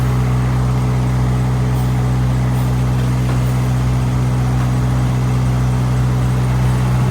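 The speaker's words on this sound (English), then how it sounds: "The lorry just come up behind me now" A lorry idles close by at the Moat Hills level crossing, a loud, steady low engine drone with a constant hum throughout and no talking.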